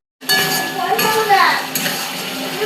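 A lid clatters onto a metal pot of meat ghugni on the stove, followed by a few clinks and scrapes of cookware, with a child and an adult talking over the sounds.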